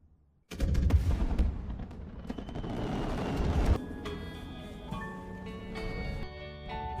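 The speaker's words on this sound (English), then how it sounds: "the fireworks explosion created a beautiful atmosphere for a while" Fireworks set off in a village burst suddenly into a dense barrage of booms and crackles, fairly loud and continuous for several seconds, then thin out to scattered pops with a faint ringing tone.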